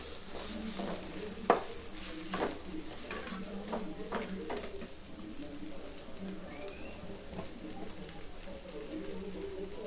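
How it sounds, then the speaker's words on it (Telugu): Halwa stirred continuously in a pan, a soft scraping and sizzling texture with a few louder clinks of the spoon, heard close while faint birdsong carries in the background. "ఒక 5 నిమిషాలు బాగా ఇలాగే కలుపుతూనే ఉండాలి ఫ్రెండ్స్. లేకపోతే అడుగు అంటేస్తుంది."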